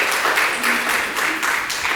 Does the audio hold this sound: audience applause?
yes